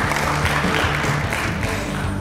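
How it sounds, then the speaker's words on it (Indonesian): Audience applause at the Indonesia Future Forum, a dense continuous wash of clapping from a large crowd, loud and sustained throughout, with a low hum beneath it. "Kita berikan tepuk tangan yang paling meriah."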